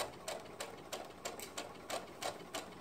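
A sewing machine runs steadily along a curved skirt seam, its needle ticking in a quick, even clatter at a moderate pace, close and alone with no voices.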